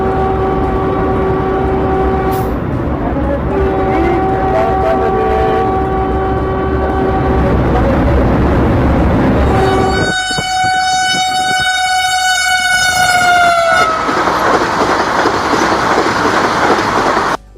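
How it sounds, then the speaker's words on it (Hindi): A Vande Bharat Express train races by on Indian railway tracks, a loud continuous rumble and wheel clatter with a long sustained horn blast partway through, rising harmonic tones near the end as it passes close. "वंदे भारत एक्सप्रेस की मैक्सिमम स्पीड है 180 किलोमीटर पर आवर"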